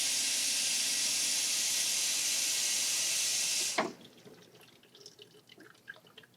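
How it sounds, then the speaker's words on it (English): Film developer chemical pours from a developing tank down a sink drain, a steady loud splashing rush that stops abruptly partway through, leaving faint scattered drips and small sounds. "So I'm just pouring that straight down the drain."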